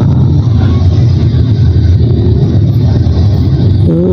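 Steady loud hum of busy traffic on Jl. HR Subrantas at the Simpang Panam intersection in Pekanbaru, Riau, dense engine rumble from many passing cars and motorbikes close by.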